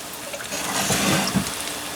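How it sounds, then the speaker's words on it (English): Water or crab meat stock poured into a pot of butternut squash soup with crab meat, a steady splashing trickle lasting the full two seconds, close and moderately loud. "add some water or your crab meat stock"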